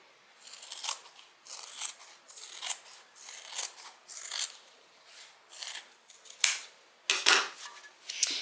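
Scissors snip through fabric for a small tote bag in a run of crisp, close cuts, about a dozen sharp bursts with short pauses between them.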